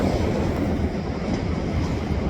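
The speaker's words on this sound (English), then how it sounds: "Making up a train here with racks." A freight train being made up with racks rumbles steadily and close by, a continuous low, broad roar of moving rail cars with no pauses.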